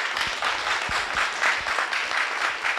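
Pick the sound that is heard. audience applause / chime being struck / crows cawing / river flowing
audience applause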